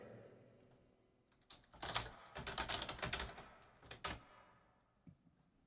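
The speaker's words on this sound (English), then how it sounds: "With enough reverb, even keystrokes sound cool." Computer keyboard keystrokes drenched in heavy reverb, a soft burst of rapid typing clicks swelling into a dense, echoing cluster, then a few scattered isolated taps trailing off.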